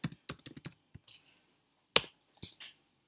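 Typing on a computer keyboard while adding text in Tinkercad: a quick run of crisp key clicks, a pause, then a few scattered taps and a sharper click, quiet and close in an otherwise silent room.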